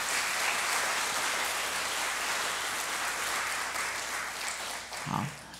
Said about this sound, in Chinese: 我们拍手谢谢他。